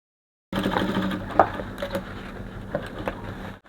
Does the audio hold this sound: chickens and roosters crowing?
no